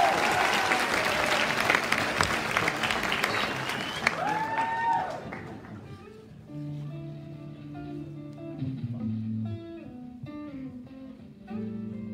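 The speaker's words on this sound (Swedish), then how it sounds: "Då ger jag en varm applåd till Felix, Alfred, Josefin, Julia, Marcus" Warm audience applause after a school arts concert song, loud clapping at first that fades out as soft instrumental tones come in and carry on alone.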